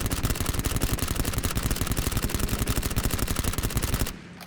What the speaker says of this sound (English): With 53 bullets in a mag and an easy to control recoil, this SMG is a Tommy gun on steroids.